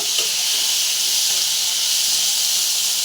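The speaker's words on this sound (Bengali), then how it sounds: "এবার ভাজা ভাজা করে নেব" Eggplant and potato pieces fry in oil with nigella seeds in a kadai, giving a loud, continuous sizzling hiss that holds steady throughout.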